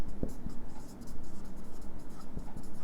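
Pen or chalk writing on a surface, soft scratchy strokes and taps repeating irregularly over a few seconds, close but fairly quiet, with a faint murmur of room noise underneath.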